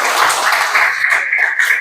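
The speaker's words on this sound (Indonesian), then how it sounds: "tepuk tangan buat kalian semua" A classroom of students clapping together, a steady dense patter of hand claps that fills the short moment at close range, without speech.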